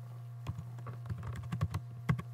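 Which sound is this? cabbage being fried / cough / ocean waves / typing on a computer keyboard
typing on a computer keyboard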